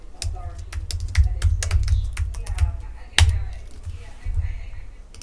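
Rapid, uneven clatter of computer keyboard typing while logging in, close and steady, with a short pause and a louder thump partway through.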